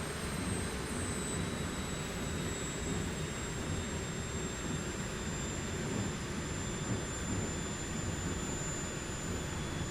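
Steady, loud drone of a simulated aircraft engine taxiing with RPM being brought down in Microsoft Flight Simulator 2024, a continuous broadband roar with a faint high whine, unbroken for the whole stretch with no talk.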